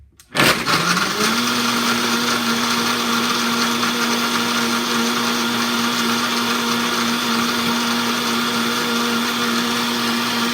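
A blender whirs up to speed and runs steadily at full power mixing a sugar-free banana smoothie, a loud continuous motor roar with ice rattling inside.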